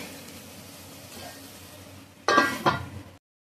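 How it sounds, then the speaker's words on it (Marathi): A lid goes onto a cooking pot, first a metallic clank and then a second clink, over a low kitchen background with a soft sizzle. "इथे मी झाकण ठेवते."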